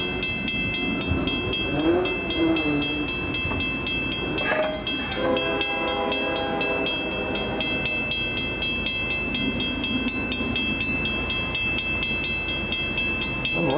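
Norfolk Southern westbound freight train rolling past, with loud continuous rumble and clatter of railcars, a horn blast near the start, and a rhythmic clickety-clack of wheels over rail joints.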